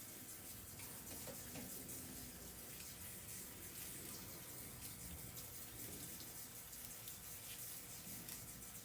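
Tap water runs steadily into a kitchen sink while kale leaves are rinsed one by one, a constant near gushing stream with faint handling sounds and no speech.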